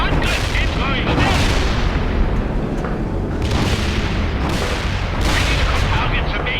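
A tank main gun fires HEAT rounds in the video game World in Conflict: loud booming shots repeat roughly every second over continuous rumbling battle noise.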